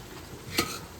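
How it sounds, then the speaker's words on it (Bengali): Food being stirred in a pan just after sugar is added: a single quick scrape of the utensil stands out over a faint, low sizzle in a very short moment. "এটা দিয়ে নেড়ে দেবো।"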